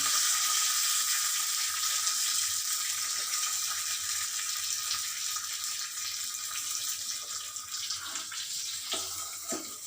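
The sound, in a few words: mustard seeds, cumin and curry leaves frying in oil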